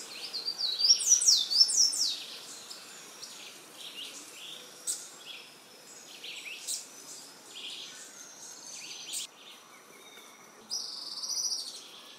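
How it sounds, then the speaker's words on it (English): Golden-crowned warbler, also called white-browed warbler, singing in forest near Iguacu Falls: bursts of high, thin chirping notes, loudest in the opening seconds and recurring faintly at moderate distance over a steady insect hum. "Golden-crowned warbler."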